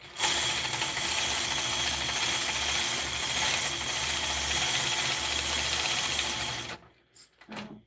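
A quilting sewing machine stitching fast as it glides around a ruler, a steady loud mechanical whirring and ratcheting that runs for several seconds and then stops abruptly, leaving brief faint knocks.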